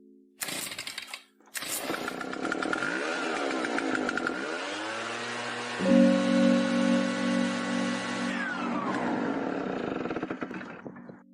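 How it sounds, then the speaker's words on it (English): A roaring, rumbling rocket effect builds after a couple of short bursts, with sweeping engine-like tones and a rising hum before tapering off. "This is what a rocket ship sounds like on speakers."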